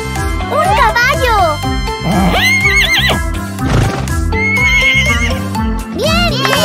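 A toy horse from a surprise egg plays a loud electronic neigh and clip-clop sound over music, while someone talks excitedly the whole time.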